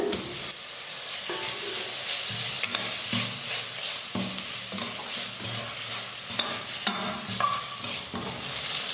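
Tomato sautés with ginger garlic paste in a pan, producing a close, continuous sizzle broken by repeated scraping stir strokes and occasional sharp clicks of the utensil against the pan.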